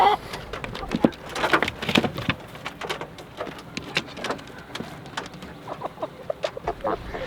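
Chickens on a small farm cluck and chatter as a flock is let out of their pen, with busy overlapping bird calls and occasional sharp squawks close by, and no talking.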